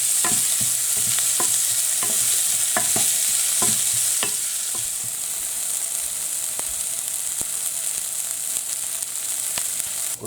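Onions and fennel seeds fry in a pan for Sri Lankan mutton curry. A loud hiss runs throughout, with sharp spatula knocks coming regularly at first, then sparser as the sizzle settles slightly.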